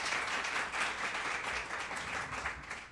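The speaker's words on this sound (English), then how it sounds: "Don't applaud so much until you hear what I have to say." Lecture audience clapping to welcome a speaker, a full, steady round of applause that swells and fades slightly, filling the room without any voices on top.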